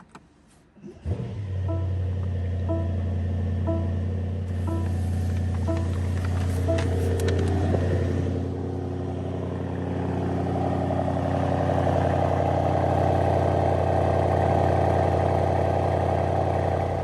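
A 2025 Mercedes S63 AMG E-Performance twin-turbo V8 cranks and fires with a sharp startup bark, then settles into a loud, steady, rumbling idle that holds close and even for the rest of the stretch, with no talk.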